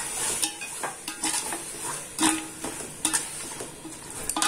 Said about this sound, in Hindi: हमें इसे फुल फ्लेम पर रखकर टमाटरों को और हरी मिर्चों को मसालों को भून लेना है।